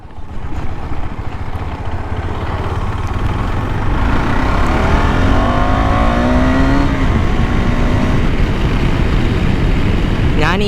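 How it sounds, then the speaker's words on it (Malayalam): A KTM Adventure 390 motorcycle rides along a road with a loud, steady engine drone and wind rush close by, and the pitch climbs and shifts through the gears. "നമുക്ക് പയ്യെ വണ്ടി റോട്ടിൽ ഓടിക്കാം അല്ലേ."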